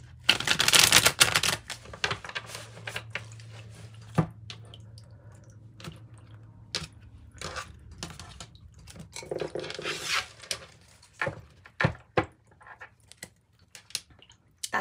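Tarot cards are shuffled and cut by hand, soft riffles and papery slaps coming in irregular bursts with quiet gaps, sharp taps marking the cuts.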